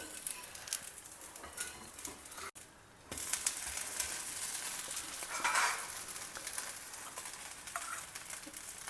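A tangy curd dosa frying in oil on a pan, a quiet continuous sizzle with light crackling and occasional utensil clinks, briefly dipping before returning slightly louder.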